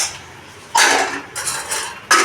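Pots and utensils clatter during home cooking of simple leafy greens and rice, in three bright bursts of clinking metal separated by short quieter gaps, close by and with no talk.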